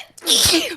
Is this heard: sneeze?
yes